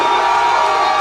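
A large arena crowd at a regional MMA fight event cheers and whoops steadily, a loud dense roar of many voices with no pauses.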